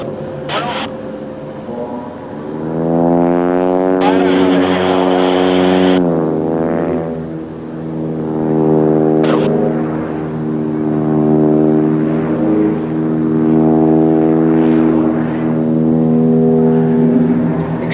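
A Chilean Air Force Halcones solo display aircraft spins inverted at an airshow, its engine note wavering and sweeping in pitch as it turns, loud and sustained with rising and falling drones.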